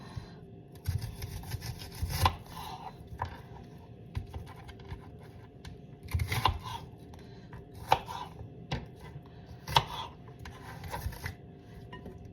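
A knife chops a whole onion on a cutting board in a home kitchen, irregular close taps and scraping strokes in uneven bursts, with no talk.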